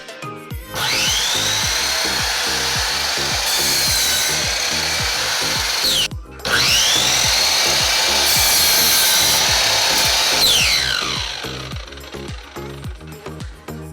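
A Craftsman folding compound miter saw makes two test cuts through wood. Each is a loud motor whine that spins up, grinds through the cut, then winds down, with a short pause between the cuts.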